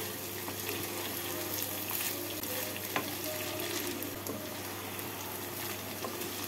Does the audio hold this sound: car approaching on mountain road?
no